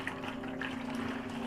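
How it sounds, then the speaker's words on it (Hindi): Water pours steadily into a tub for washing white clothes, a continuous close gushing fill with a faint steady hum underneath. "अब हम इसमें ऐड करेंगे पानी।"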